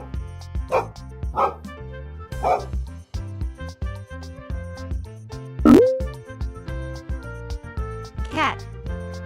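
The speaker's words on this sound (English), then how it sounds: "Dog." A dog barks several times in short, spaced yaps over steady cheerful background music, with one louder bark near the middle.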